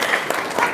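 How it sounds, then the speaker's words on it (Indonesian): Audience applause at a live talk show, a short dense burst of clapping from a crowd, loud and steady. "Tepuk tangan dong."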